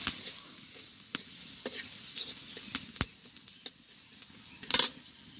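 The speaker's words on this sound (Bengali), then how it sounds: "সুন্দর করে পেঁয়াজটা ভাজি করে তার উপরে ডালটা ছেড়ে দেবো।" Onions fry in oil in a pan in a village kitchen, with lentils and salt and turmeric going in. A steady soft sizzle runs under scattered sharp scrapes and clicks of a spoon stirring.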